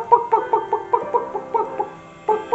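A chicken clucks in a quick, uneven run of short notes, loud and close, with a brief pause near the end before one more cluck.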